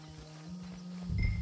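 Horse hooves in Red Dead Redemption 2 clop in a steady rhythm over a low hum, growing louder and heavier toward the end.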